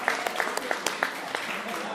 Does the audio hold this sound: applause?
yes